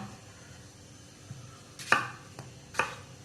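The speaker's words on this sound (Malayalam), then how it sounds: "പൈനാപ്പിൾ അരിഞ്ഞത് അത് സ്ക്വയറായിട്ട് കട്ട് ചെയ്തെടുക്കുക" A few sharp knife chops on a cutting board as pineapple is cut into squares, spaced apart and fairly close, with quiet background hiss between strikes.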